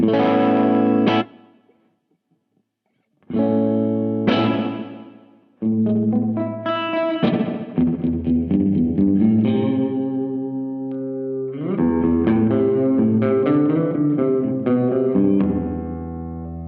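Electric guitar notes and chords played through a Valco Five-O spring reverb pedal ring out with a splashy, drawn-out reverb tail, sparse single plucks giving way to fuller strummed passages.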